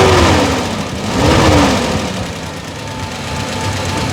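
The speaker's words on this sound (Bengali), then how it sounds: "গিয়ারে দিলে বোঝাই যাবে না যে গাড়ি স্টার্ট আছে এই জায়গায়।" Close, loud idle of a used Toyota Super GL car engine after switching automatically from petrol to gas, a steady rumble with a slight knock and a gentle rise and fall in revs.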